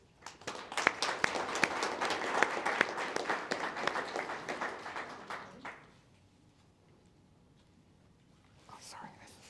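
An audience at an architecture lecture applauds as the speaker comes to the stage, with brisk, fairly close clapping that holds steady for several seconds and then dies away, leaving near silence and a few faint sounds.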